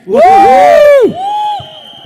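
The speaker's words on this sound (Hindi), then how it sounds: "जोरदार तालियां हो जाए for the to our captain of the ship" A song launch audience for Mastii 4 cheers and whoops loudly in a dense crowd burst, with a sustained shout rising and fading before a second, softer swell of crowd voices.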